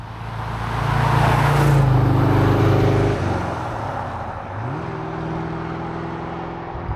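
A De Tomaso Pantera V8 revs hard, its loud rising engine note swelling over the first few seconds, then dropping back and climbing again in a second strong pull, close by with no talk.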